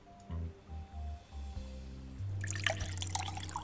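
Dirty canal water is collected into a jar in the video game AR-K, with a few soft drips and gurgles followed by a steadier, louder pouring and splashing of liquid, close up and on its own.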